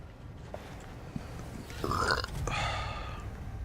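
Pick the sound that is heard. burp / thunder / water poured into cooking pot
burp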